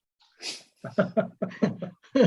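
A single short sneeze bursts out near and clear, followed moments later by brief voiced sounds that could be a reaction or spoken words, in an otherwise quiet setting.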